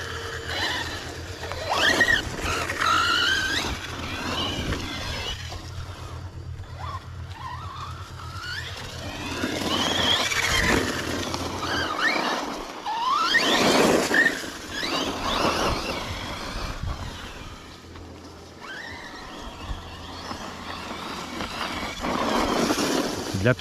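A Hobao Hyper VS2 6S electric RC truggy tears through woodland trails, its motor whining and rising in high pitched surges as it accelerates, skids and slows, with brief stretches of quieter rolling between bursts.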